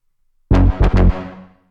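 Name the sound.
Agora synth preset without processing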